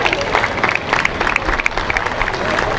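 Loud crowd applause breaks out at a songwriters' contest in the Isthmus of Tehuantepec, Oaxaca, a thick wash of clapping mixed with cheers and murmuring voices.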